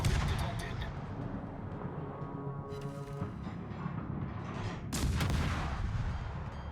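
Naval guns on the destroyer Błyskawica and surrounding ships in World of Warships, heavy rumbling artillery salvos and booms rolling continuously with a couple of sharper volleys, someone talking over the gunfire.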